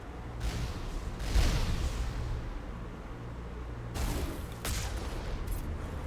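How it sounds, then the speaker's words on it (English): Rocket fire in a Mass Effect firefight on Feros: repeated distant blasts and crackling bursts roll over a steady low rumble, with a few sharper volleys standing out. "I'd love to be able to see through that rocket fire."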